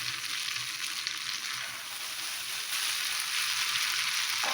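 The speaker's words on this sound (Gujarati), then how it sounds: "બેટરને થોડુંક ઊંચેથી નાખવાનું, એટલે જારી બનશે સરસ." Ghevar batter is poured from a height into hot ghee, producing a dense, continuous close sizzle that swells louder toward the end, with no talking.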